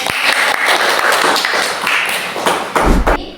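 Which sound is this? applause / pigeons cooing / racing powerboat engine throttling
applause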